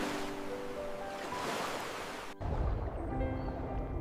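Ocean waves wash over barren tidal flats in a broad, hissing surge that swells and then breaks off abruptly into a lower, rumbling churn, moderately loud with no voices.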